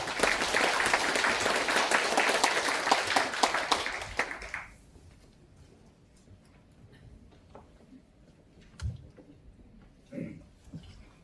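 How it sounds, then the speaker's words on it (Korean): Audience applause at a residents' briefing on the Mokdong Station urban public housing project, dense clapping for about four seconds, then fading into a quiet room with a few faint scattered knocks. "큰 박수 부탁드리겠습니다"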